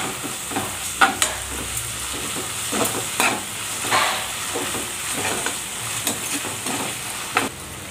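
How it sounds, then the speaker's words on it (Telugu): Ginger garlic paste fries with onions and green chillies, a steady close sizzle broken by frequent spatula scrapes and taps against the pan, no voices. "కొంచెం అల్లం వెల్లుల్లి పేస్ట్ వేసుకొని ఫ్రై చేసుకుందాం."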